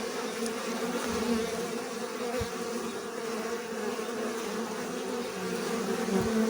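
Dense, steady drone of honey bees buzzing at the hive, a continuous close swarm hum with no pauses and a few faint low thumps underneath.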